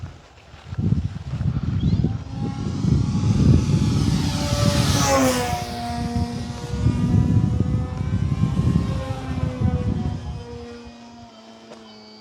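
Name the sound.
Hangar 9 PT-19 RC model airplane engine during flight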